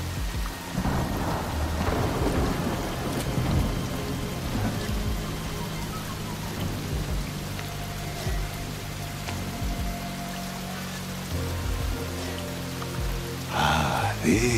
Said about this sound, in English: I could do without the rain.